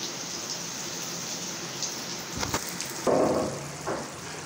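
Water poured into a pot of potato curry on the stove, a short splashing gush over a steady sizzling, simmering background hiss.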